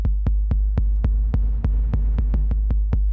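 Sampler output from a Roland MV-8800 with reverb added: a steady series of about a dozen deep, punchy thumps in an even rhythm over a low sustained hum, loud and alone with no talking.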